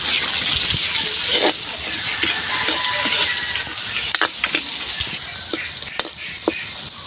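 Ginger and garlic sizzle steadily in melted butter in a pan, a continuous close frying hiss with occasional faint clicks and stirring sounds, no talking.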